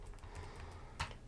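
A computer keyboard is typed on in a quick burst of light key clicks, with one louder tap near the end, close and quiet.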